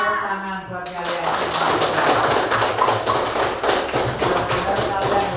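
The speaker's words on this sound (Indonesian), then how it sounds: "Tepuk tangan buat kalian." Schoolchildren in a classroom clap together after reciting national principles, a steady rapid patter of many small hands close by, with an adult voice briefly heard at the start.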